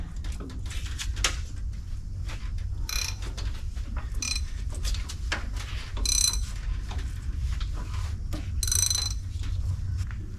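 A wrench on the 22 mm alternator nut turns over a 1st-gen Cummins 12V diesel engine in reverse, giving a run of close, dry ratcheting clicks and metallic ticks over a low steady hum, with no talk.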